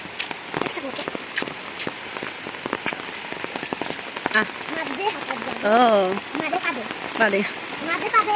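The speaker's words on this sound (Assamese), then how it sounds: "ইমান বৰষুণ দিয়া আছে" Heavy rain pelts down in dense, crackling patter, and voices talk now and then over the downpour.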